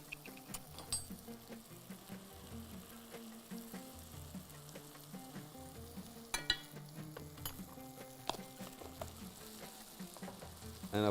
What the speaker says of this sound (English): Now you stir it a little bit.